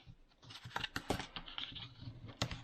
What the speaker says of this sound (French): Donc on marque les plis